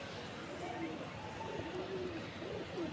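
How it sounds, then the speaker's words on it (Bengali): Imported pigeons in a loft coo softly in faint, low rolling calls, heard quietly in the background alongside murmured voices. "এত সময় আমরা অনেক পাকিস্তানি কবুতর দেখছি, এবার আমরা ইন্ডিয়ান কবুতর দেখতে চাই।"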